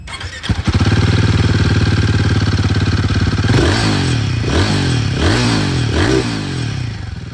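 A Royal Enfield Guerrilla 450 motorcycle idles with a steady, loud exhaust burble, then takes several quick throttle blips that rise and fall in pitch, close by with no talking.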